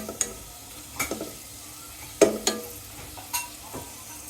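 Chopped garlic fries in oil with browned onions in a pan, giving soft sizzling and scattered crackles broken by a few sharp scrapes of a stirring spoon, close and fairly quiet with no voices.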